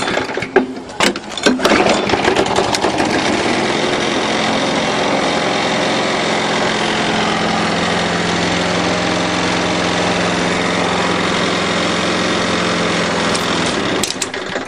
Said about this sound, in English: Notice it didn't make that chit-chit-chit sound anymore because now it's got good compression.